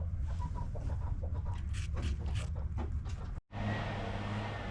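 Farmyard chickens cluck and call at a moderate distance over steady outdoor background noise, with a brief cut near the end before the ambience resumes.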